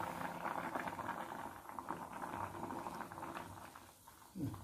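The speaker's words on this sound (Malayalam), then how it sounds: "തിളച്ച വെള്ളത്തിൽ തന്നെയാണ് നമ്മൾ ഇട്ടിട്ടുള്ളത്." Dough dumplings simmering in a pot of boiling water, a soft steady bubbling and patter throughout, fairly quiet and close, with a brief clunk near the end.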